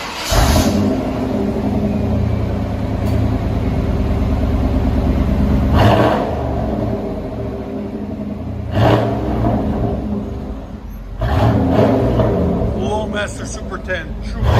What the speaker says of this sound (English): FLOWMASTer Super 10 True. That sounds pretty good.